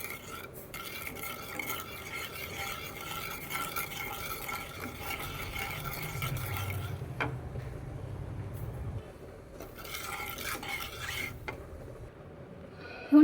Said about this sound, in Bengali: তেলটাকে হালকা ঠান্ডা করে নিচ্ছি, নাড়িয়ে নেব।